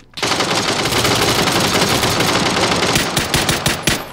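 Sustained automatic gunfire from a video game firefight, dense and loud rapid bursts running nearly the whole time, with sharper separate shots near the end.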